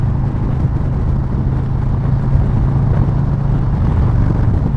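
A Harley-Davidson Low Rider S on a morning commute through Los Angeles, with a steady low engine rumble and constant wind and road roar that stay even and loud throughout, with no talking.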